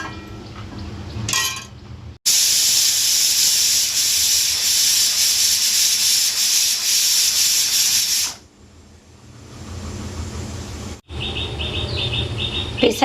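Kitchen pressure cooker whistle releasing steam: a loud, sustained hissing jet lasting about six seconds, followed by quieter sputtering and a second short hiss burst with a faint whistling tone near the end.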